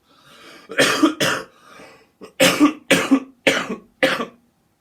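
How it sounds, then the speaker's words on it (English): A person coughs repeatedly, about half a dozen harsh bursts close to the microphone, with short pauses between them. "The reason why I'm coughing"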